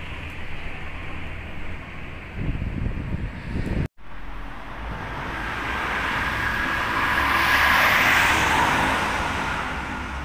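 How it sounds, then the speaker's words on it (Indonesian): Road noise from a Rosalia Indah bus with a Jetbus 3+ body heading into Jakarta on the Lebak Bulus toll road, a steady rumble that cuts out briefly, then swells into a long rising whoosh as the bus passes. "Ada bus Rosalia Indah dengan body jet bus 3 plus Jakarta."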